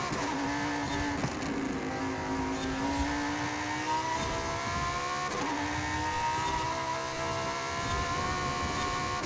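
A Lamborghini Super Trofeo race car engine in Forza Horizon 5 holds a steady, droning high-rev note whose pitch climbs gradually, dips sharply once and climbs again, continuous and fairly even in loudness with no voices.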